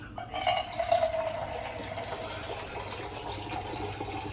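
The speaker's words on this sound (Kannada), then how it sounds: "ಅದಕ್ಕೀಗ ಒಂದು ಪ್ರಮಾಣದಲ್ಲಿ ನೀರು ಹಾಕ್ತಾಳೆ ನಮ್ಮ ಅಕ್ಕ" Water pours steadily into a pot of rice for biryani, a continuous gushing splash that settles into an even, moderately loud fill with no voices.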